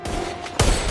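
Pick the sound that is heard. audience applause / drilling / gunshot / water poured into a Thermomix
gunshot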